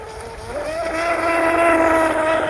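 A small brushless motor on an RC tunnel-hull boat whines steadily with a rising pitch, close by, against a wash of water and wind noise.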